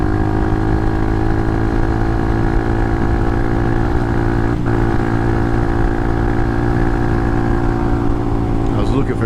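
Motorcycle engine running steadily and loud throughout while riding at speed on the Isle of Man TT course, with a brief dip around a gear shift, wind roar present.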